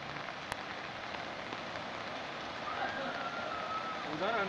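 Steady rain falls across a town where streets and wards are flooding, a constant hiss throughout with a sharp click near the start and faint voices and tonal sounds toward the end.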